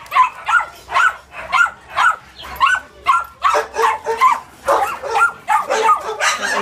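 A rescue dog in a kennel barks in steady repeated bursts, loud and close, with a few higher yips mixed in, without pause over the whole stretch.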